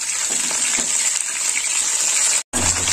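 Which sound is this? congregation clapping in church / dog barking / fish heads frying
fish heads frying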